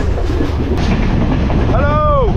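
Onboard a Sri Lanka train running to Kandy, a loud continuous rattling roar of wheels and carriage with a brief high wheel squeal near the end, and someone talking over it.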